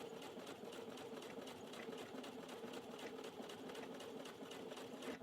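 Sewing machine stitching denim fabric, a steady rapid mechanical whir with fine repeated needle clicks, running continuously and fairly close with no pauses.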